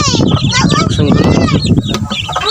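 Lively young chicks chirp densely and close together in a quick, overlapping flurry of high peeps, with a person talking among them.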